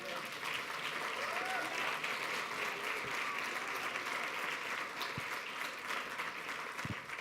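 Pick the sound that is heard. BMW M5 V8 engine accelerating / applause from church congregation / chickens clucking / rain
applause from church congregation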